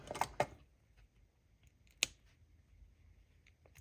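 Wire cutters snip jewelry wire while making earrings, a couple of sharp close clicks at first and then a single crisp snap after a short pause, with faint handling in between.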